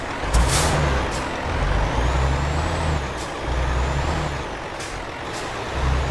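A pressure-tank-hauling truck in a driving video game rumbles along with a low, pulsing engine drone, punctuated by several sharp hissing bursts of air brakes and a faint thin whine.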